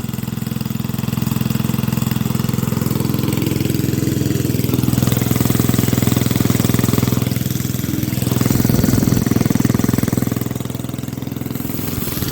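A small old go-kart motor drones steadily at high revs through a speed run, swelling louder for a couple of seconds near the end before easing back, with no voices over the engine.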